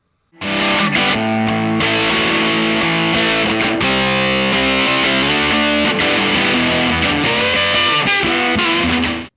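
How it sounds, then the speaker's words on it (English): A heavily fuzzed electric guitar plays thick, saturated chords and riffs through a Fender Vibrolux Reverb amplifier, loud and sustained, starting abruptly and ringing out at the end. "Listen to how the amp stays tight and punchy even though the fuzz is hitting it really hard."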